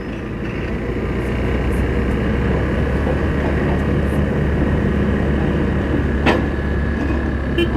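Two loaded trucks running close together in a truck race near Kolhapur, a steady heavy engine roar and broad road rumble holding constant throughout, with one sharp brief knock near the end.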